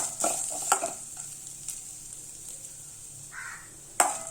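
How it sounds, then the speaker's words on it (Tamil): Grated coconut roasting in ghee in a pan while being made into sweet aval, a soft sizzle with scraping stir strokes that come and go, including a sharper scrape near the end. "இதுல கொஞ்சமா நெய் விட்டு தேங்காயும் வறுத்து எடுத்துக்கலாம்."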